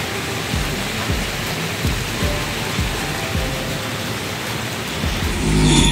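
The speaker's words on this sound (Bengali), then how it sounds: "প্রচণ্ড জোরে বৃষ্টি লেগে গেছে।" Heavy rain pours down in a dense, unbroken roar, loud and close, rising slightly toward the end.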